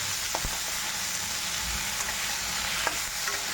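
Ginger and garlic paste sizzles and fries in hot oil alongside a fish head, a steady close crackling hiss with a few faint stirring scrapes and no talking.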